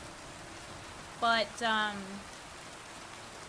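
Steady, even rain hiss fills the scene in Kingdom Come: Deliverance 2, holding at a constant level throughout while a voice briefly speaks over it partway through.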